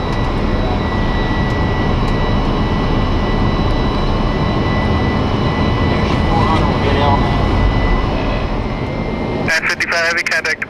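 Boeing 747-400 jet engines roar steadily and loudly during a go-around on very short final at Miami, a constant broadband rumble with radio chatter from air traffic control over it.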